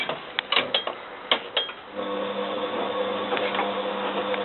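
A Bosch WFF2000 washing machine runs an Easy Care 50 cycle while heating, with clicking, ticking mechanical bursts early on, then a steady hum with a faint tonal whine, heard close with no voices.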